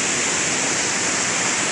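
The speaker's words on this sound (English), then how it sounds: "You know, this waterfall is absolutely beautiful." Tahquamenon Falls in northern Michigan roars in a steady, dense rush of falling water, a continuous broadband wash close by with no breaks and no voices.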